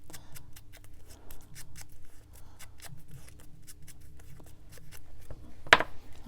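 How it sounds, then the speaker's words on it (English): Strong scissors snipping through paper scraps in a craft session, a steady run of sharp, close crisp cuts with a louder snip near the end, no talking. "Very strong scissors,"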